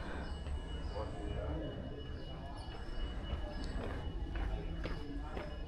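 A Lisbon metro train rumbles along steadily, a dense low roar with faint rattling and brief higher squeaks from the wheels, fairly close and continuous.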